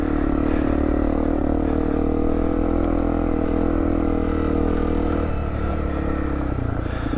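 A Honda CRF250L dual-sport motorcycle descends a mountain trail, its engine droning loud and steady throughout, with rattling clatter and shifts in pitch toward the end.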